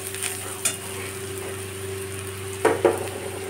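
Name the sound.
onions frying with turmeric and Kashmiri chilli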